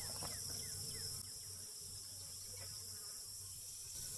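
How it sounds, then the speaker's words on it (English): Bees hum faintly inside a hive box holding a late-season caught swarm, a thin steady buzz with scattered brief tones over a quiet outdoor background and no speech. "There are bees in here."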